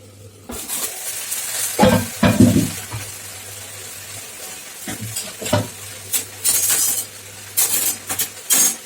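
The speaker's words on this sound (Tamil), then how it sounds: "வெண்டைக்காய் பொரியல் அதுக்குள்ளே வதங்கிச்சு" Okra stir-frying in a pan, a steady sizzle broken by scraping stirs and metallic clinks of a utensil against the pan, with bursts of louder activity over a low hum.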